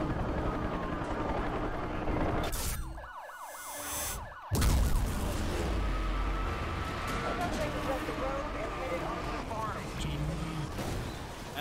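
A police car siren wails in the racing game Need for Speed Hot Pursuit Remastered, rising and falling over a roaring engine and road noise, loud and close for a couple of seconds before the driving sound takes over.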